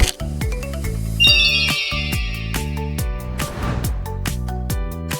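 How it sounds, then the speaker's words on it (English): A phone rings with an incoming call, playing a bright, looping electronic ringtone melody of repeated chiming notes that sounds close and clear throughout, with no voices over it. "stranger's calling my phone"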